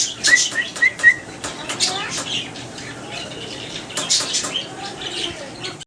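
Pigeons chirp and flutter at a pigeon sale, with short repeated calls and wing sounds heard alongside people talking in the background.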